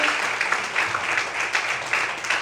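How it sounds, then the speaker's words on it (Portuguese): Congregation claps in a church service at night, a steady, fairly loud wash of hand-clapping with faint rhythmic pulses running through it. "Mais fortes palmas."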